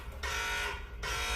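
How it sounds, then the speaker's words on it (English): A loud electronic buzzing alert tone from a phone warning of a car alarm going off on a Dodge Hellcat, sounding in two steady bursts with a brief dip between them. "The new text alert"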